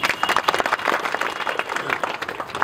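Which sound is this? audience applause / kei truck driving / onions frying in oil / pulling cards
audience applause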